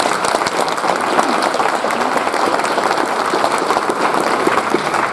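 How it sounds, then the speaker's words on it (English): Sustained applause from an audience at a judicial officer awards ceremony, dense, steady clapping filling the room for several seconds without pause. "So I want to give her a round of applause"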